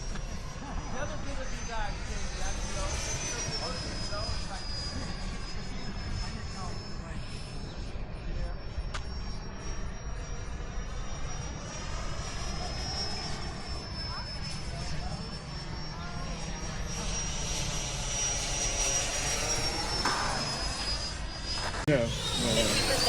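Freewing A-4E Skyhawk RC jet with electric ducted fan coming in to land from right to left, a steady high whine that rises and falls in pitch as it passes, heard under occasional talk.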